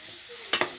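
Chili powder sizzling and frying in a hot pan while being stirred, a steady soft hiss with two sharp scraping bursts near the end.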